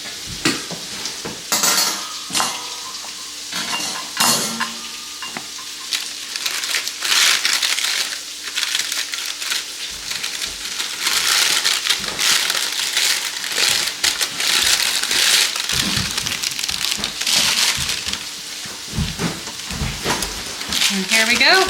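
Knife sawing through a crusty loaf of homemade einkorn sourdough bread, giving repeated crackling, crunching strokes of the crust, fairly close and steady, with a voice talking now and then.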